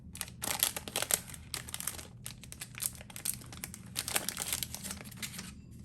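Crinkly plastic packaging around a pack of stickers being opened, with bursts of crackling and rustling coming in irregular clusters, fairly close and moderately quiet, and no voices.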